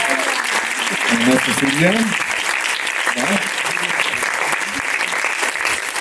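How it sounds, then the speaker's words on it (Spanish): Steady applause from an audience at a Mexican screenwriting event honoring Silvia Pasternac fills the whole stretch, dense and continuous, while someone speaks over it in Spanish. "pues de nuevo un aplauso"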